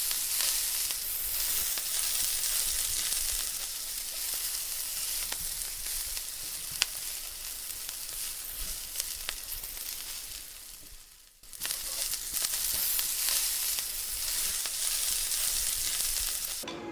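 Nasi goreng Jimbaran, Indonesian fried rice, sizzles loudly in a pan with steady crackling and scraping stirs, close and continuous, dipping briefly before the frying noise resumes.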